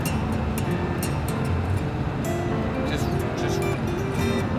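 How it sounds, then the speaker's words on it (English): A car travelling along a road in Texas, with a steady, continuous drone of engine and road noise throughout and someone talking over it. "Just driving, man."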